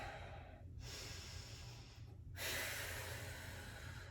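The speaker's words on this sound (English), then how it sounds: "I'm breathing loud to emphasize that you need to breathe." Quiet, heavy breathing up close: a long rushing exhale, a brief pause, then another strong breath, with low background hum.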